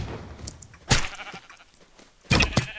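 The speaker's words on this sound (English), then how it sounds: "I just brought a sheep for my team." Sheep bleat in a multiplayer video game, two loud bursts against a quieter background of clicks and game noise.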